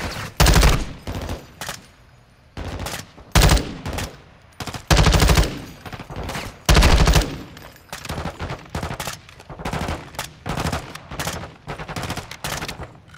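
Gunfire in the video game Modern Warfare 2 Remastered comes as loud bursts of automatic fire and single shots, clustered in heavy volleys with short gaps, mixed with battle noise throughout.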